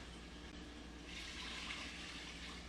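Water from a tap pours steadily into a cooking pot for a rice and chicken dish, a continuous broadband rush that swells slightly louder midway and carries on without a break, fairly quiet and heard alone.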